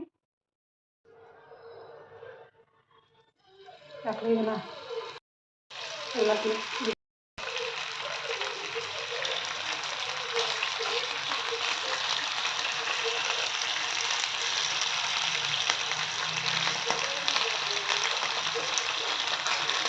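Fish fried tawa-style in oil on a hot pan, starting with a few clattering handling noises and brief gaps, then settling into a loud, steady sizzle that continues without break while someone talks over it.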